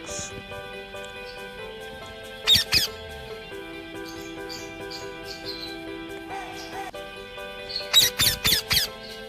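A parrot voices short squawky, talk-like calls in two bursts, one near the start and a longer run near the end, set against a steady background of other tonal sounds.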